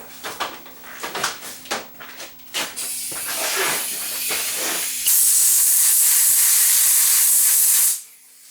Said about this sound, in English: Just use some compressed air to cool that heat sink down.